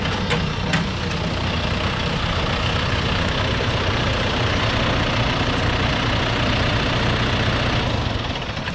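John Deere 5100M tractor with a 4.5-litre four-cylinder diesel idles steadily, a dense continuous low rumble heard close up and unchanging throughout.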